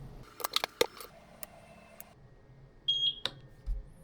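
A Eufy S120 solar security camera gives a short tonal beep after its sync button is pressed, heard faintly and close, preceded by several sharp plastic clicks and handling taps.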